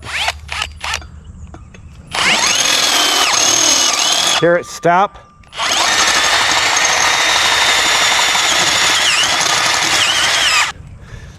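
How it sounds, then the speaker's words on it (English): A power drill whirs steadily through thin metal for several seconds, stopping briefly with a short burst of speech before drilling resumes loudly. "So we're going to drill it."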